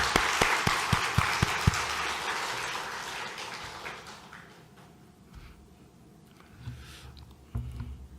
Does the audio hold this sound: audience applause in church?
yes